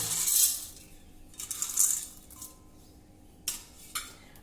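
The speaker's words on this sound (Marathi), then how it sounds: "फुटाण्याच्या डाळ्या देखील घालूया" Roasted split chickpeas poured into a mixer jar that already holds cashews, almonds and roasted peanuts, giving a hard rattling clatter in bursts with a couple of sharp clinks near the end.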